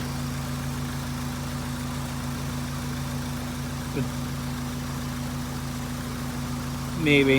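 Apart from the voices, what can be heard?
2003 Honda CR-V engine idling with small exhaust leak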